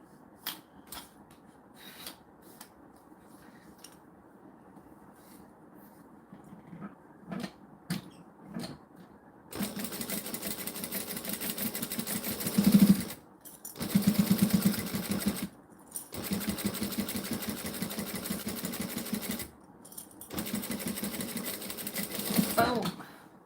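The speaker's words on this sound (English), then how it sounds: "And then we're going to top stitch." A sewing machine top stitching runs in several bursts of steady mechanical whirring, stopping briefly between runs, with quieter clicks and handling before it starts.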